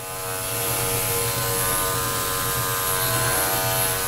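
Electric dog clippers buzz steadily and close up while trimming a toy poodle's face, a continuous motor hum with strong harmonic whine and no talking.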